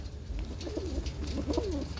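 A large female pigeon coos close by, two rounded, warbling calls rising and falling over steady low background hum.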